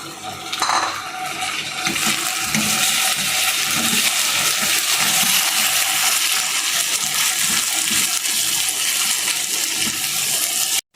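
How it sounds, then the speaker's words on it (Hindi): Water poured into a pan of chopped peeled tomatoes, a loud steady splashing hiss with metallic clinks of cookware, continuous for several seconds and ending abruptly, no voices. "ये देखिए, मैंने इसमें थोड़ा सा पानी डाला है"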